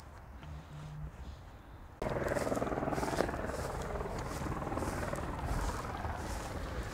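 Helicopter landing in a fern-covered hunting gully in Canterbury, a steady rotor roar that comes in suddenly partway through and stays loud and continuous from fairly near, with quieter outdoor ambience before it.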